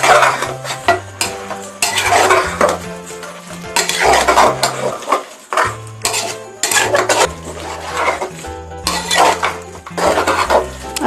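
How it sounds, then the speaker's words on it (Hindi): A spoon stirs mutton into masala in a pot for a village-style curry, giving loud, close scraping and clinking strokes in repeated bursts over a low sizzle, with no voices. "अब इसमें डालते हैं मटन। इसे भी अच्छी तरह मिला लेते हैं।"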